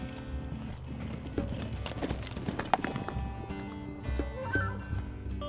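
Horses trotting during a cavalry reenactment at Broxton Bridge Plantation in Ehrhardt, SC, a continuous close clatter of hooves with a neigh or two and faint background voices.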